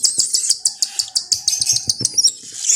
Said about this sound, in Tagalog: So yun na sila mga kaibon.